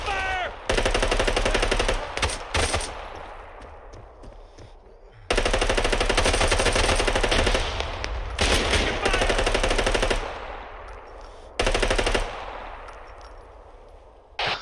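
Loud, sustained automatic gunfire in the video game Arma 3, long rapid bursts separated by brief pauses, with a voice briefly heard near the start.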